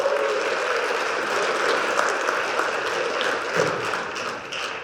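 A live audience at a Las Vegas leadership event applauds steadily, a dense wash of many hands clapping in a large room that goes on for several seconds before thinning slightly at the end.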